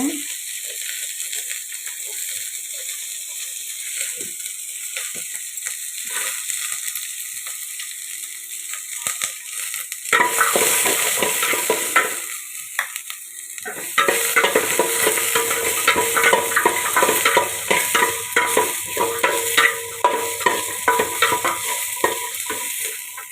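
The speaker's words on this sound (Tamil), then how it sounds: "இது கூட வெங்காயம் வெங்காயம் கருவேப்பிலை பூண்டு எல்லாமே போட்டுக்கணும்" Onion, curry leaves and garlic frying in oil while being stirred, a steady sizzle that grows louder and busier halfway through, with scraping and rattling of a spoon against the pan, no talking.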